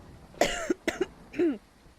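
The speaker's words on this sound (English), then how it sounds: "I didn't mean to address you and then cough in your ear" A person coughs close to the microphone during a live game stream: a few sharp, loud bursts with brief raspy tails, then a last throaty hack.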